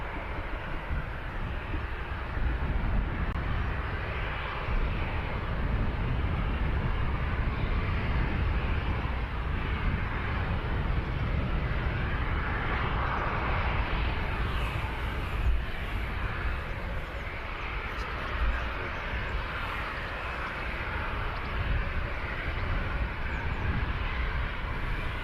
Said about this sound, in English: this Jet 2 737